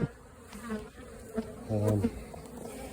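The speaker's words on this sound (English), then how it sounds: "shake any bees off in front of the hives that are sticking to them" Honey bees buzz steadily at close range in front of their hives as they are shaken off, a dense droning hum that swells briefly in the middle with a louder, lower pass near the microphone.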